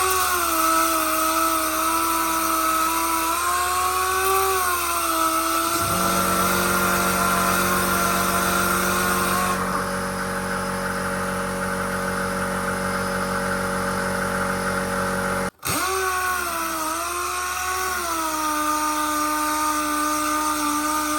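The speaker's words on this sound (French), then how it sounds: "je vais prendre la ponceuse pneumatique" A pneumatic sander with 180 grit paper runs continuously with a high airy whine, and its pitch drops as the pad loads against the surface during car restoration work. The sound cuts out briefly, then spins back up.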